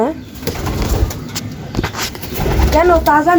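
Racing pigeons coo softly nearby amid rustling and faint wing sounds, while a person speaks close by.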